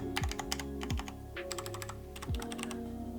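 Keys clatter on a Cherry MX mechanical keyboard with double-shot keycaps, a crisp, fairly close run of clicky keystrokes in quick irregular bursts, with no talking.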